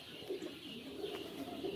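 Japanese quail on a laying farm call in short soft coos and chirps, faint and close, over a low steady background hum.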